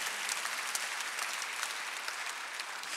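A church congregation applauds during a Sunday worship service. The thick, steady clapping fills the room evenly for a few seconds without a break.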